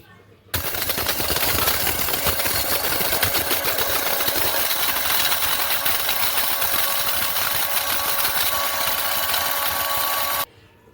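Electric spice grinder pulverising whole garam masala spices for a home-style Bengali fish curry, a loud continuous whirring grind running steadily for about ten seconds, starting and stopping abruptly.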